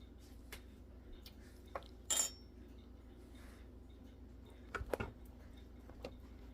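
Homemade potato soup ladled from a pot into a bowl, heard as a few quiet, scattered clinks and scrapes of a utensil against cookware in a hushed kitchen.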